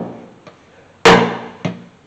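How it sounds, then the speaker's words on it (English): A dead blow hammer strikes a control arm bushing during front end assembly on a 1979 Chevy C10 pickup: one loud, sharp blow stands out, bracketed by a lighter tap before and a second, smaller knock after. "I'm going to take my dead blow hammer."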